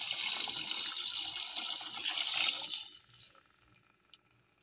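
Water pours in a steady splashing rush for about three seconds into a pan of sautéed onion, garlic and tomato for mung bean stew, then tapers off to near silence with a faint clink.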